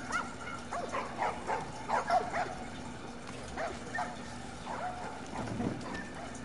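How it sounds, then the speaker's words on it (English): Dogs in The Last of Us Remastered barking and yipping in a string of sharp, mid-distance calls with a few whimpers, layered over game ambience. "Oh, they have dogs."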